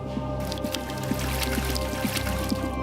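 Water streams through a walled garden in Iran, a near, continuous wet trickle broken by small squishy drips and splashes that recur at an uneven rhythm.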